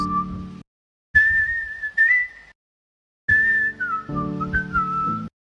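A whistled melody sample used for music production plays in clear, sustained tonal phrases separated by short silences, loud and alone with no talk.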